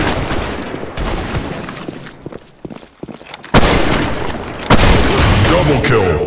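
AWP sniper rifle shots in the Blackshot video game on a Lost Temple Halloween map: loud, booming reports with sharp onsets, heard alongside dense game sounds and voice announcements.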